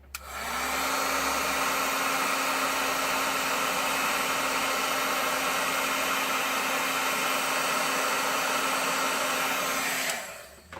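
A craft heat tool blows hot air onto a piece of work, a loud steady whirring rush with a constant hum that starts abruptly, holds for about ten seconds and then cuts off, with no speech.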